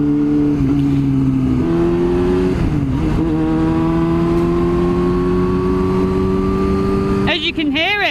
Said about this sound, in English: you can probably hear it because this has got an exhaust that somebody else put on it. It's a Black Widow exhaust